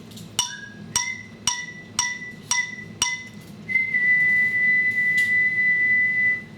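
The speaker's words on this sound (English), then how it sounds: "But I can whistle that tone." After several bright struck notes from a prototype xylophone tone bar, a person whistles a clean, steady B note that holds for a few seconds, close and fairly loud.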